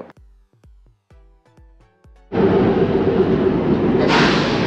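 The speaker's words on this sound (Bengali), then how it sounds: "তার পাশ দিয়ে যাচ্ছে টয় ট্রেন" On the Kalka–Shimla toy train, a series of sharp, evenly spaced clacks gives way to a sudden, loud, sustained rush of rolling noise that swells once more near the end.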